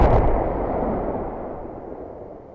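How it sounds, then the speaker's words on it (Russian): Sappers detonating found mines and shells: one heavy blast whose deep, rumbling roar rolls on and slowly fades away. No one speaks. "Сегодня был произведен первый подрыв найденных взрывоопасных предметов."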